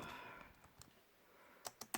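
Typing on a computer keyboard, a few faint, quiet clicks with a short burst of three sharper keystrokes at the end.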